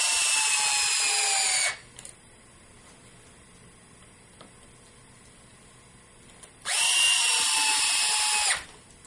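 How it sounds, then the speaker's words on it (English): Hitachi power drill driving screws into an RC car differential, two loud close whirring bursts with a quiet gap of faint handling noise between them. "then I'll use my Hitachi drill here"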